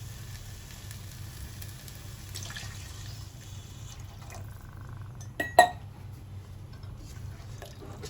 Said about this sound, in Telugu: వాటర్ యాడ్ చేద్దాం.